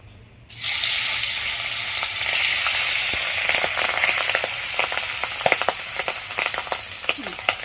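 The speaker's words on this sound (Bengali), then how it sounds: "আমি এবার এর মধ্যে মাছ ভেজে নেব।" Fish hits hot mustard oil in a pan and sizzles, a sudden loud frying hiss that settles into a steady crackle with scattered spits and pops.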